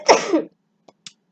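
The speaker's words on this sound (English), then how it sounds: "excuse me, I'm about to sneeze." A single sharp sneeze up close, a short explosive burst followed by quiet, with a couple of faint small sounds after.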